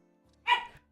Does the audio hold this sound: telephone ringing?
no